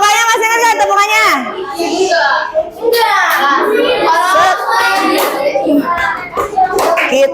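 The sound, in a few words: class of children doing a rhythmic clapping chant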